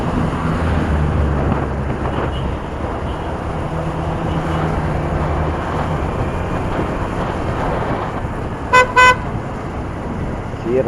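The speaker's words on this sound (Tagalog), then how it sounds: "sira talaga yung busina ko guys." A water-damaged, faulty vehicle horn gives two short, strained honks in quick succession, heard over steady road traffic and wind noise around a moving vehicle.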